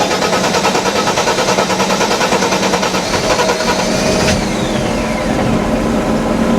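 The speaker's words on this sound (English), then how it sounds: "see, it takes a while to start up, which is obviously fuel pressure, right?" A 1991 Mercedes-Benz 300SL (R129, 24-valve, five-speed manual) engine cranks slowly before catching, settling into a loud, steady running drone with a faint rising whine late on, close up and alone.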